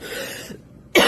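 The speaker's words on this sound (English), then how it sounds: "Now I'm having a coughing fit." A short bout of coughing: a rough hacking burst, a brief near-silent gap, then a sharp loud cough at the end, close to the microphone.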